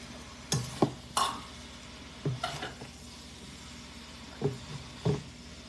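Food cooks in a pan under a spoon, with about six distinct scraping stir strokes spaced irregularly over a faint, low sizzle, close and quiet, with no one talking.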